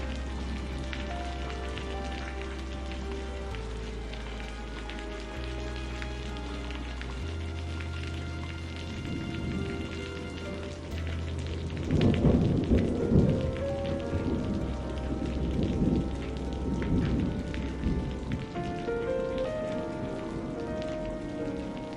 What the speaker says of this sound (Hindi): अरे ये दुकान के अंदर भी बारिश का पानी आ रहा है